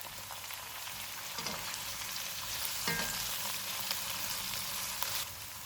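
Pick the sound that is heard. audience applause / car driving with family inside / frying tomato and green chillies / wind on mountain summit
frying tomato and green chillies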